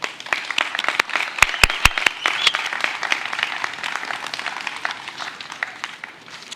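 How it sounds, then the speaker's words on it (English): Audience applause at an honors ceremony for honorees' families, a steady, dense wash of clapping through the whole stretch with a few sharper individual claps standing out near the start. "Please join me in applauding them."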